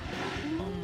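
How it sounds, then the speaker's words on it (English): Lycan's wolves in a Dota 2 match, a low, drawn-out wolf howl rising slightly in pitch, faint and distant beneath the game's background sound. "hear the wolf howling in the background."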